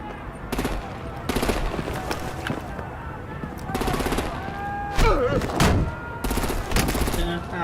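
Gunfire erupts in the Batman: The Enemy Within game, with bursts of automatic fire and single shots repeating in clusters, loud and close, interleaved with voices and tonal game sound effects.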